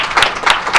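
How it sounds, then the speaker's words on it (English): Brief burst of applause from a small panel audience, clapping swelling in three quick waves over under a second, moderately loud and close. "I want to give a big thank you and round of applause to our panelists."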